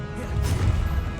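Hogwarts Legacy Depulso force spell striking, a loud dense crash with a sharp burst near the middle over steady low rumble of game sound, all within about a second.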